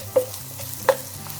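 Food stirred in a frying pan with black pepper, a soft steady sizzle broken by two sharp scraping clinks of a utensil, close and fairly quiet with no talking.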